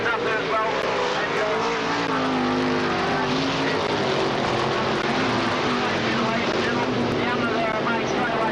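Dirt-track race cars at the 1985 War of the West roar into turn one, a dense, continuous engine drone under an excited commentator's running voice.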